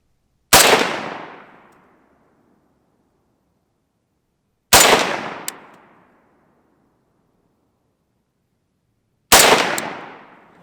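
Three single shots from an AK-47 loaded with frozen ammunition crack sharply and loudly outdoors, spaced about four seconds apart, each followed by a long echoing decay into silence.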